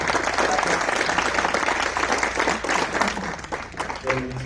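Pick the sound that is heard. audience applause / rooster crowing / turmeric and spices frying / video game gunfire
audience applause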